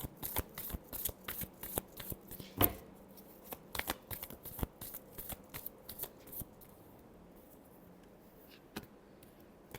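Tarot cards are shuffled by hand up close, with a rapid series of crisp paper riffles and flicks and one louder snap. The sound thins out to sparse taps near the end.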